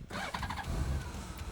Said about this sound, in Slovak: naštartujem motorku z toho dôvodu, že by sa zohriala fajne, aby ten olej krásne stiekol